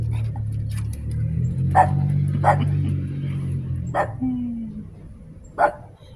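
A pet dog barks at home, giving four sharp, spaced barks over a low steady household hum, with no one talking.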